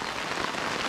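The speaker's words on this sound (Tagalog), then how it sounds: "Lakas ng ulan oh, silong kayo." Heavy rain pours down onto a surface around a house, making a dense, steady hiss with no gaps. Nobody talks over the downpour.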